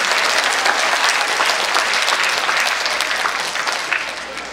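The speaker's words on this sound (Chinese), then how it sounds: "请掌声鼓励。" Sustained applause from a school audience at an end-of-term performance showcase, steady dense clapping throughout that tapers slightly toward the end.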